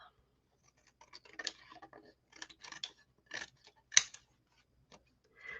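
Scissors trim paper for a stamped card, giving a run of close, crisp snips and rustles in uneven bursts with a sharper click among them, in a quiet setting without talk.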